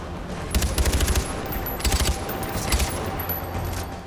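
Automatic gunfire from the shooter game Far Cry 4 during an airport assault, three short rapid bursts over a constant background hum, with no talking.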